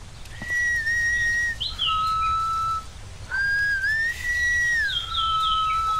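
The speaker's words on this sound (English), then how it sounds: "I'm just gonna let you continue that weird whistling." In the horror video game DreadOut, an eerie whistled tune is heard as long sliding and wavering whistle notes, loud and steady over low background noise, with no talking.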